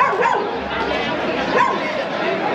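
A dog barks and yips repeatedly at moderate distance, mixed with busy background chatter and voices at an agricultural fair in Sineu, Mallorca.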